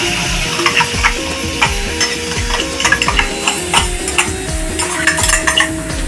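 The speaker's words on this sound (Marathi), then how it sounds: "ती आता पेस्ट आपण फोडणीला टाकायची आहे मसाल्यामध्ये" Coconut masala paste hits hot oil tempering in a pan, frying with a steady close sizzle while a spoon stirs and scrapes, clinking against the metal at irregular intervals.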